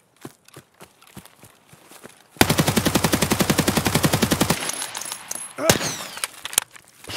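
Automatic gunfire in the shooter game Escape From Tarkov rips out in a long rapid burst of evenly spaced shots, loud and close, followed by scattered footsteps and softer shots.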